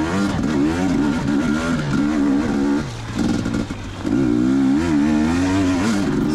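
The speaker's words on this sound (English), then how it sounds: "Bike's running great today." Off-road motorcycle engine running steadily on a trail test ride at Johns Peak OHV, with a loud, continuous droning note that rises and falls as the throttle changes, briefly dipping before picking up again.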